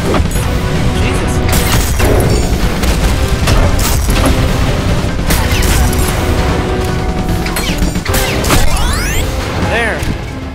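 Loud repeated booms and crashing blasts from explosions in the video game Ultrakill, stacked densely over a continuous chaotic backdrop of game noise.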